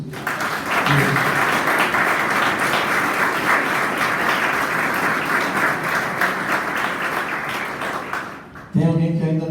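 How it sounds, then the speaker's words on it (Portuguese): Church congregation applauding: dense, loud, steady clapping throughout, ending abruptly near the close as a voice begins speaking. "Aplauda Jesus."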